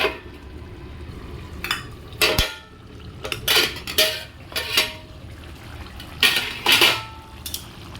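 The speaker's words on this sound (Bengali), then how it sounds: "ঢাকা দিয়ে দেবো" A fish curry pot being handled on the stove: a series of distinct metallic clanks and scrapes of lid and cookware, close and separated by short pauses, over a faint background sizzle.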